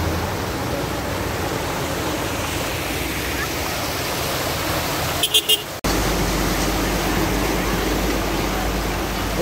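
A car driving through a flooded stretch of the BR-230 road, a loud continuous rush and wash of water, broken briefly by a short drop and a few knocks before the steady surge resumes.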